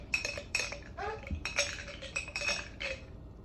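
A metal spoon scrapes raspberry jelly from the inside of a nearly empty glass jar, giving a series of close, clinking scrapes in quick, uneven bursts.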